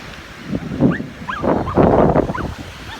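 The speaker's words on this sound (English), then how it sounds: "Well, my dog is over there just going crazy." A small dog barks excitedly several times outdoors, a little distant, with wind and surf-like noise rushing underneath.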